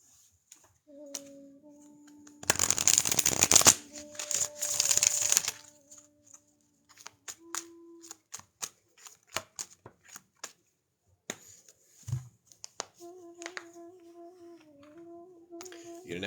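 Tarot cards are shuffled in two quick riffling bursts, followed by soft handling taps and slides, with faint tones ringing in the background.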